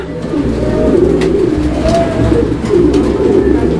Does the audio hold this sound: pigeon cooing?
yes